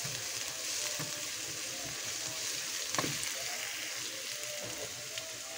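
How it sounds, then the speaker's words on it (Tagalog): Garlic and onion sizzling in hot oil for chicken shawarma, a steady close crackling hiss with small pops throughout, no voices. "Naglalagay pala ako ng langis at bawang sibuyas para sa ating shawarmang lulutuin."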